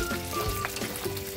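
Butter melting in a hot frying pan, a steady soft sizzle and crackle with a faint tonal hum beneath, close and continuous, no talking.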